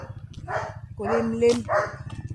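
A few dog barks and yips sound close by amid talking, short and irregular over a rhythmic background thumping.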